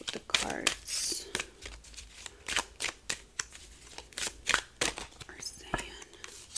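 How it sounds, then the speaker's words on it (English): Tarot cards being shuffled close up in quick, irregular bursts of riffling and slapping, with soft whispery breaths between. "I'm going to shuffle a little bit"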